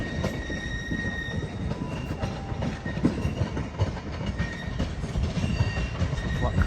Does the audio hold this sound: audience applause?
no